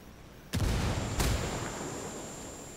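A frag grenade goes off in Ghost Recon Wildlands with a sudden loud blast, then a second sharp burst shortly after. The rumble decays slowly over a steady background hum.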